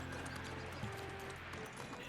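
Horse hooves clop steadily in the video game Medieval Dynasty, with a brief whinny partway through, all over a constant layer of outdoor game ambience.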